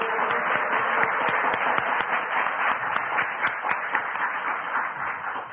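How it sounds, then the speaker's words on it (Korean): Audience applause welcoming a journalist speaker onto the stage at a Korean talk event: sustained, dense clapping from a large crowd, steady and loud throughout with no voices over it. "박수로 맞아주십시오"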